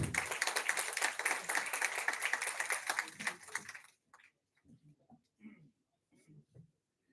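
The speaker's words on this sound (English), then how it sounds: "Give a huge round of applause to ma'am," Loud, dense applause from a crowd fills the first four seconds, then cuts off, followed by a few quiet scattered sounds.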